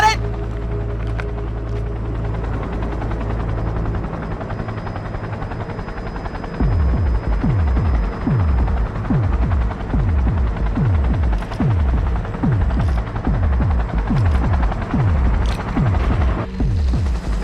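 An aircraft in the video game Cyberpunk 2077 lifts off, a loud low rotor-like thumping starting partway through and pulsing rhythmically under a steady engine hum.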